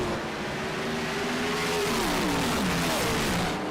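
Race car engines in a racing sim video game at Martinsville drone loudly as a pack of cars runs together, the pitch dipping and shifting as the cars pass, with no voices.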